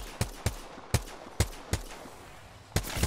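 Sharp, close gunshots from the shooter game Apex Legends ring out as about seven separate single shots at uneven intervals, each with a brief echoing tail over a quiet background.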